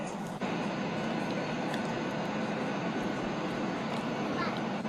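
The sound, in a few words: airplane cabin noise during flight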